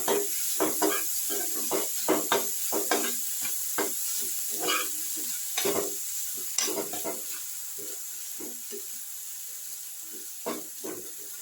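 Chopped spring onion stalks with salt are stirred in a hot pan, a steady sizzle running under repeated scraping and rustling strokes of the spoon, close up and with no voices.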